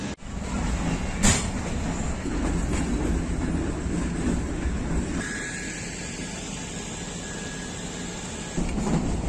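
Pakistan Express passenger train pulling out of Rawalpindi, with a steady loud rolling rumble and rattle of the carriages, a sharp clank early on and a thin squeal partway through.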